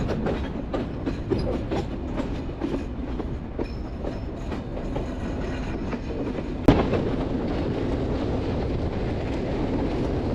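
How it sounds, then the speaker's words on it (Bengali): A train rumbles steadily along tracks through rice paddy fields in Bangladesh, with a continuous rattling clatter of wheels on rails, a sharp clank partway through, no voices. "ধানের জমির মাঝখান দিয়ে ট্রেনের লাইন আর মাঝখান দিয়ে ট্রেন যাচ্ছে"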